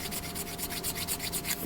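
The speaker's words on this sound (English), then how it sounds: "try to sand it down a little bit more" Epoxy putty on a custom Gundam plastic model is sanded by hand with light pressure: a steady, rhythmic back-and-forth scratchy rubbing, close and fairly soft, with no voices.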